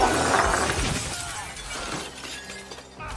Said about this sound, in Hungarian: És nézzétek meg, milyen gyenge ez az üveg.